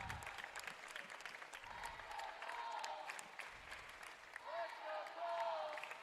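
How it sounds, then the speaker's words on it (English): Crowd at a Div 1 high school volleyball championship applauding and cheering, steady clapping with raised voices throughout, swelling near the end. "And now the Colts crowd encouraging the Colts"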